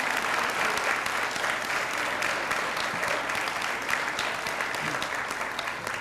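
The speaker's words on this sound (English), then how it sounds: "Can we give them a round of applause, please?" Sustained applause from an audience at an eighth grade awards ceremony honoring the academic team, dense and even, with many hands clapping at once throughout and no break.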